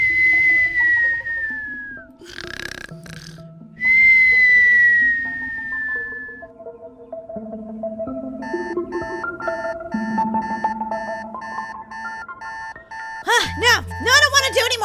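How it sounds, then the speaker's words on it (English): An in-game alarm clock in Roblox Bloxburg goes off as a long run of evenly pulsed electronic beeps, fairly loud, followed by a sharper ringing burst at the end, after earlier whistle-like game sounds. "Your alarm went off"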